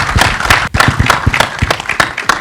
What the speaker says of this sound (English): Huge round of applause for her.